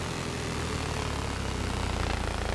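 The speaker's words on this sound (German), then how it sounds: "Oh, der feindliche Heli." Enemy helicopter in the video game Battlefield 3, a steady dense rotor and engine roar that fills the whole moment at constant loudness, with no talk.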